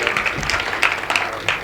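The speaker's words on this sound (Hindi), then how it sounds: "आप उनके लिए तालियां बजाएं" Brief burst of audience applause at a Haryanvi comedy poetry gathering, scattered clapping of moderate loudness that sounds thin and slightly distant.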